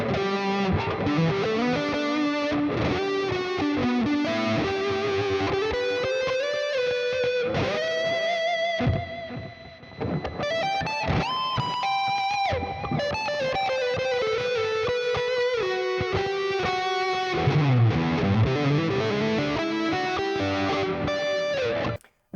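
Jackson PC-1 electric guitar played through its HS2 pickup with heavy distortion, a dense, sustained run of chords and riffs filling the whole stretch at steady loudness, with one brief drop midway and no talking.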